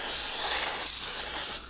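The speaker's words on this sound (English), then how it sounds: "you just basically spray it off with some brake clean" Brake cleaner sprays onto Honda Grom motorcycle parts in a loud continuous aerosol hiss that eases briefly, then cuts off near the end, heard alone at close range.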